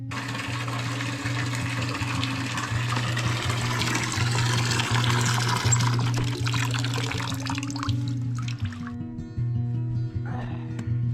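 Water running steadily into buckets in a barn while caring for Shetland sheep in winter, a continuous close hiss and splash over a low mechanical hum that stops briefly near the end.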